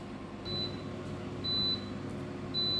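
Three short electronic beeps from a Cookeo multicooker sound about a second apart over a steady low hum, each one thin, clear and moderately loud.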